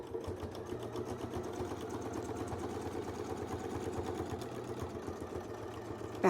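A sewing machine stitching along a quilting template line runs at a steady fast pace, its rapid even needle chatter continuing for several seconds before it stops, with no talking.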